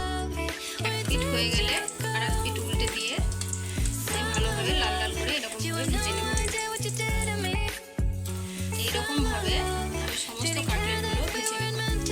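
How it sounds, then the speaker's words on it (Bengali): Fish cutlets frying in hot oil, a steady loud sizzle that runs on without a break. "এবার আমি ফিশ কাটলেটগুলো একটা একটা করে ভেজে নেব"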